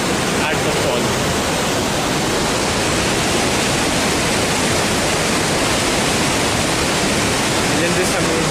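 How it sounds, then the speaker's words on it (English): Loud, steady roar of falling water at Dassam Waterfall in Jharkhand, a dense broadband rush that fills the whole clip without pause, heard close to the fall. "can you hear the noise of the falling water? Just first listen to the noise of the water."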